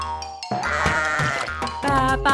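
Sheep bleating sounds in a children's nursery song, several loud wavering bleats in quick succession with music, alone without speech.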